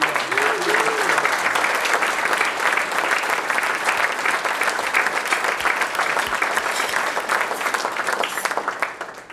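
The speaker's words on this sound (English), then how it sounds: "A round of applause, please, for all those involved in the GBM" Sustained applause from a large summit audience fills the hall, a dense steady wash of clapping that carries at even loudness for the whole stretch and tapers slightly at the end.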